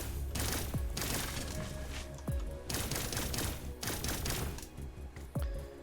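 Rapid secondary-mode weapon fire in the sci-fi shooter Cygnus Enterprises, a fast, inaccurate burst of shots in quick succession with several sharp, loud reports standing out, heard alone without talk.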